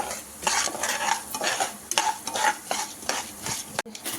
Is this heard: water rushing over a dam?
no